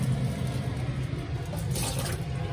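Water runs into a large pot while a hotpot is being prepared, a low, steady gushing rush with faint rumble that holds throughout, with no talk.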